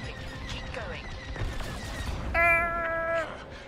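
A cat meows in the Star Wars Squadrons game, with short meow-like calls over engine and combat noise; a bright tonal beep sounds in the second half.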